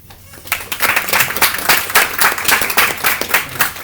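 An audience at a university executive debate breaks into dense applause, starting abruptly and holding steady as a close, bright wash of many clapping hands.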